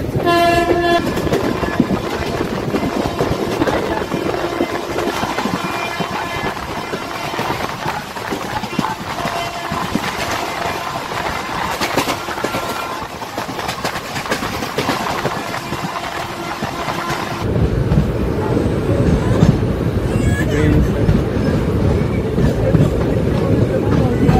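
Jaynagar to Sealdah GangaSagar Express passenger train running on rails, a steady rumbling roar with clattering wheels throughout, growing heavier and lower near the end, with faint voices in the background.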